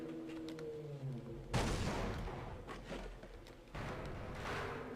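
A grenade detonates in Half-Life, a loud close blast with a long rumbling tail that swells again moments later, over game sounds with no speech.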